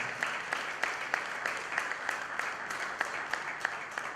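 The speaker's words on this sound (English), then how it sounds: "Big round of applause for every single person associated with Biz Orion." Audience applause at an organizational event, fairly faint continuous clapping from a crowd with a regular, rhythmic pulse of sharper claps running through it, as if some hands keep time.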